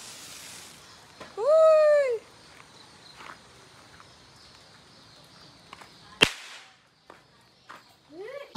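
Diwali firecrackers going off outdoors near chickens: a rising whistling rocket, then a single sharp loud bang, with scattered smaller pops and faint voices amid quiet surroundings.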